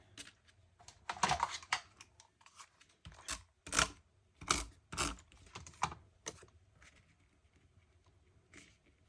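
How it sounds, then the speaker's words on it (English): A photo trimmer slicing white paper for matting a sketch, several sharp slides and clacks of the blade and handling of the paper, close and crisp with quiet pauses between, no talking. "I'll pull my photo trimmer."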